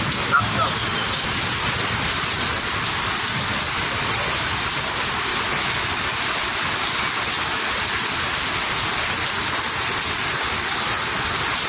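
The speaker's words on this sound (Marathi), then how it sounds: "कणकवली शहरासह तालुक्यातील विविध भागात आज शनिवारी अवकाळी पावसाने हजेरी लावली" Heavy unseasonal rain in Kankavli town and taluka, Sindhudurg: a steady, dense roar of downpour on surfaces, loud and unbroken throughout with no talk.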